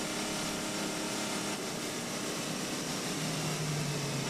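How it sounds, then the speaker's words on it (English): A Peugeot diesel prototype race car at the 2009 Le Mans 24 Hours, its engine producing a steady, loud, broadband roar that holds throughout, with a low tone rising toward the end and no speech. "That is the sound of power, diesel power"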